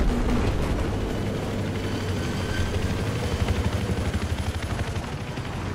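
A helicopter in an Xbox video game drones steadily with a loud, continuous rotor chop and engine hum throughout, rising slightly in pulsing rhythm toward the end.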